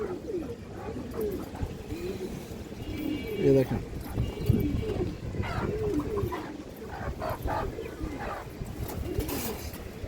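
Old-line pigeons of a traditional breed, including a boot-beaked one, coo softly in a loft among dealers at a pigeon sale, beneath steady close talk.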